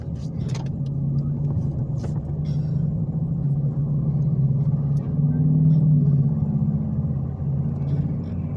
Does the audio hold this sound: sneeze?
no